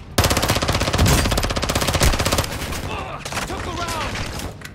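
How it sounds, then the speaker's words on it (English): Rapid automatic gunfire in Call of Duty, Ashika Island platoon exfil, loud and close: a long sustained burst of machine-gun fire, then scattered shots and other combat noise with faint radio chatter underneath. "You are taking effective fire"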